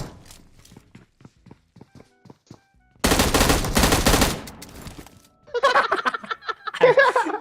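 A burst of rapid Uzi submachine-gun fire in a battle-royale shooter game runs loud for about a second and a half after quiet footsteps, followed by further scattered gunfire and clatter.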